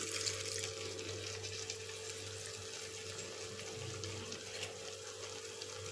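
Water poured into a pan of crab pepper fry with tamarind paste, a steady, continuous trickling flow under a constant low hum, moderately quiet and unchanging.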